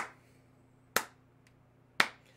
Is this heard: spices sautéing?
no